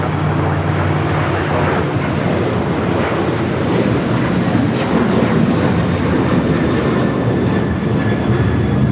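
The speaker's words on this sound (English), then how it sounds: "That is American Airlines 1380 taking off to Chicago on the 737-800." An American Airlines Boeing 737-800 takes off at Los Angeles airport, its engines a steady, loud, broadband roar that holds evenly throughout with no voices.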